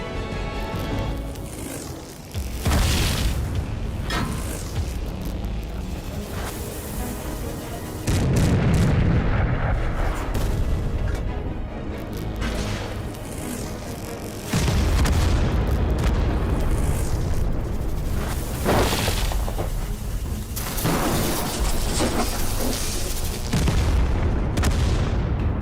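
Heavy artillery and large-calibre guns boom repeatedly in a war video game, loud blasts and rumbling bursts stacking in dense waves throughout, with no talk over them.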